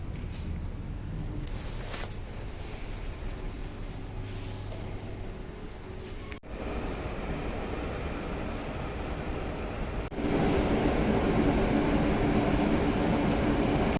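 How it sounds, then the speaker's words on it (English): Rail traffic at a train station in Ostrava, Czech Republic: a steady low rumble of moving carriages, briefly cut twice and then swelling louder and broader over the final seconds, with no voices. "And now we go to a train station over to the west of the city."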